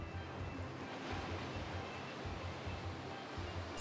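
Ocean surf rolling onto a Caribbean beach, a steady broadband wash with low rumbling swells, moderately loud and continuous, with light wind buffeting the microphone and no voices.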